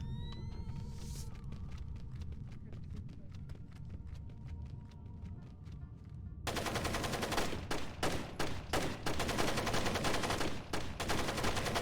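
Rapid gunfire in Splinter Cell: scattered sharp shots at first, then a dense, loud burst of sustained automatic fire with rattling repeated cracks.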